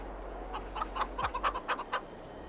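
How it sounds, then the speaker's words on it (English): Chickens clucking in a quick series of short, rhythmic clucks, fairly faint over a low steady hum. "I think we'll just let the chickens do their thing."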